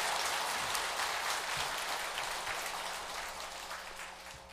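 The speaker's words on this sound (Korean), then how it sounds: "박수 한번 쳐주십시오." Audience applause at a Buddhist bodhisattva-precepts assembly, a steady dense wash of clapping from a large gathering that holds throughout and slowly tapers toward the end.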